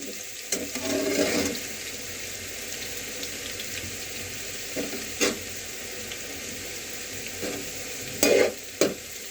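French-fry-style potatoes sizzle in a pan as a utensil stirs them, giving a soft constant frying hiss broken by a few sharp scraping and clattering strokes.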